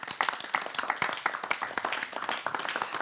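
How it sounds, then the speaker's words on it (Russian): Studio audience at a Gomel evening TV programme about pets clapping, a dense, steady patter of many hands that carries on for about three seconds without a pause. "Вам аплодисменты."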